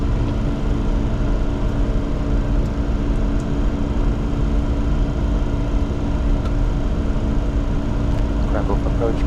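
Challenger 604 business jet climbing after take-off from Krakow, a loud steady roar and drone heard from inside the aircraft, constant throughout without pauses.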